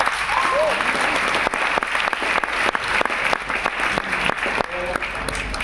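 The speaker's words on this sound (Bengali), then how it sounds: "নিজের জন্য জোর হাততালি হয়ে যায়" A crowded hall at a five-star awards programme in Siliguri breaks into loud, continuous applause with sharp individual claps, while voices and cheers carry over the top.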